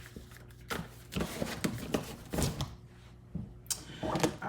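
Tarot cards shuffled in short handheld bursts, a series of soft riffling and slapping sounds spread across a few seconds, close and moderately quiet over a faint steady background hum, with no speech.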